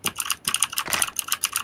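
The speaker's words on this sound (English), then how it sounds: "All I hear is a bunch of clicking. That's my keyboard." A mechanical keyboard with Cherry Blue switches clicks during a PUBG session, with rapid bursts of sharp, close keystrokes typed in uneven rhythmic clusters and no voices.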